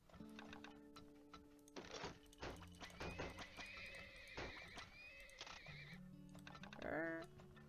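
Horse hooves clip-clopping in the video game Turmoil alongside a neigh and tonal game sounds, with clicking and a rising chime near the end.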